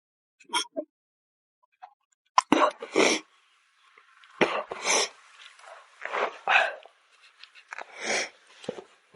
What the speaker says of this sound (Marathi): बघा अशा नुसत्या शिंका येत आहेत